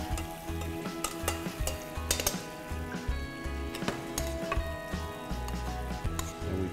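Veal simmers in a marsala sauce with a steady, soft sizzle, while faint utensil clinks and stirring scrapes sound close by and no one speaks.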